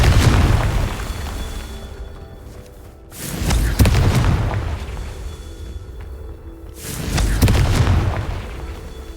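Booming blasts from the Confringo fire spell in the video game Hogwarts Legacy, three heavy deep explosions a few seconds apart, each with a rumbling tail, loud and full over a game soundscape.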